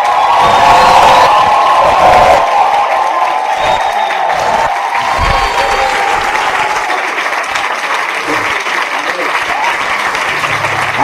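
A church congregation applauding and acclaiming, dense sustained clapping with cheers and shouts of praise from many voices, loud and continuous throughout, fading slightly toward the end.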